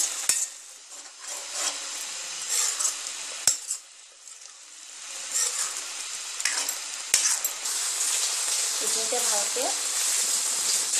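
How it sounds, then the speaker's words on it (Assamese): Coriander, chilli and garlic paste fries in hot oil for chicken curry with a loud, steady crackling sizzle, broken by a few sharp clinks of stirring. "ভালকে দহ মিনিট সময় ভাজি ল'ব লাগিব"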